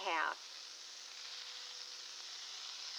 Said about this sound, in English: lay those steak strips right there on the grill and hear that sizzle